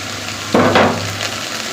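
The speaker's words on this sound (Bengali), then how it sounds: "তারপর আদা রসুনগুলো কেটে নিই, আস্তে আস্তে ভেজে থাক" Ginger and garlic hitting hot oil in a pan, a sudden sizzle bursting up after a quiet moment and then settling into a steady, close frying hiss.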